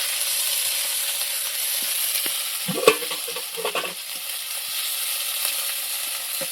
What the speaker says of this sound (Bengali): এই যে আদা বাটা এখন আমি এই তেলের সঙ্গে দিয়ে দেবো।